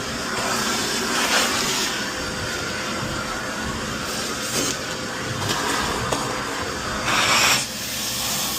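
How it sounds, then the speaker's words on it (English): A shop vacuum runs steadily while a bowling ball is drilled, giving a continuous broadband hiss and roar with brief louder surges, close and with no talking. "I finally got the vacuum done. Now it's working like a champ."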